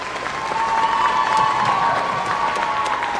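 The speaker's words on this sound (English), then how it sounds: "Can we give another round of applause, please?" Audience applause and light cheering after a 5th–7th grade school orchestra concert, a steady dense wash of clapping from a large crowd, with a faint sustained tone running underneath.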